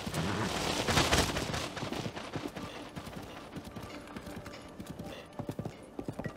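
Horse hooves in The Legend of Zelda: Breath of the Wild: rapid rhythmic clip-clop of a galloping horse, loud at first and then steadier and quieter, with a heavy thump near the start.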